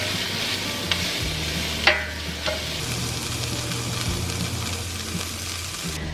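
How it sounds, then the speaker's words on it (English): Roughly chopped spinach sautéing with green onion and red bell pepper in a pan, a continuous close sizzle with a few sharp stirring clinks and scrapes, no voices. "we're just going to let this saute another couple minutes"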